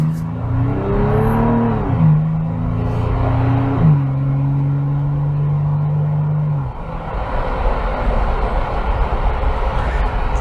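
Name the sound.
2022 Toyota 4Runner TRD Pro 4-liter V6 engine while driving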